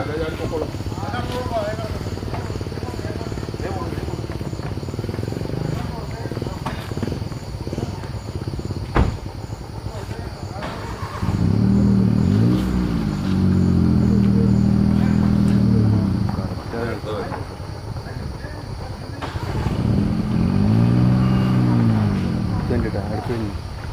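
A motor vehicle passes on a forest road where elephants are crossing, its engine rising and falling twice. Constant insect-like buzzing and voices sit under it.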